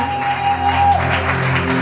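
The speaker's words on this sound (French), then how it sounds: "You can applaud for them." A congregation at a church service applauds to honour church workers, a dense moderate clapping wash mixed with a sustained musical tone and low hum from the hall.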